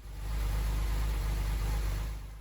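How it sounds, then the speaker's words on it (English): A rebuilt Porsche 911 Carrera with the M96 flat-six engine idles slightly unevenly, a steady low rumble heard close and alone with no talking. "You can see in the camera and hear in the engine that it's still running a little lumpy."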